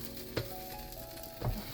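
Mutabbak sizzling steadily in a pan just after being flipped, a soft continuous frying hiss over a low flame with two brief louder thumps from the pan, close up and with no voices.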